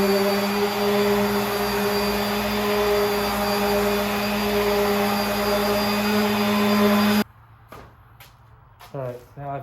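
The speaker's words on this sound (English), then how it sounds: "So now I'm going to sand this with the 320." Sander working a cherry and epoxy river table with 320 grit paper, a steady close whine with a hum for about seven seconds, then stopping abruptly, leaving scattered faint handling noises.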